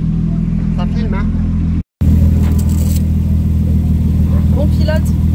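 A Renault 5 replica car rolls through its first gentle laps, a steady low engine rumble close to the microphone with a brief cut, while people talk over it.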